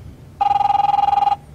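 Telephone ringing in The Wolf Among Us, a single loud electronic ring burst of about one second with a rapid warbling trill, set against a quiet background.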